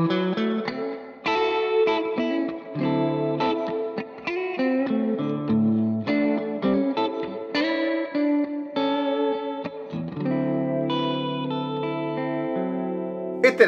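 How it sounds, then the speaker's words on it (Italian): Electric guitar phrases of chords and picked notes played through a plate reverb selected on a Morningstar MC6 PRO pedalboard, smooth bright decay trailing each note, steady and loud with no voices. "Con un doppio clic attivo un riverbero plate."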